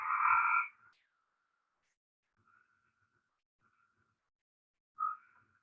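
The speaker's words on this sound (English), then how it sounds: "Pinewoods tree frog is the one that sounds like Morse code." A pine woods tree frog calls in short bursts: one loud, buzzy call at the start, a few faint tapping pulses in between, and another loud call near the end.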